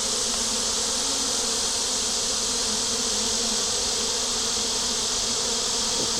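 Honey bees buzz outside the hive on a hot day, a dense, continuous hum of many insects that stays loud and steady throughout with no talking.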